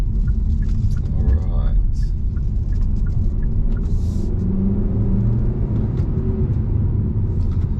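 A 2021 Hyundai Kona N-Line's 1.6-litre turbo engine, all-wheel drive, gives a low, steady cabin rumble and road drone under someone talking continuously.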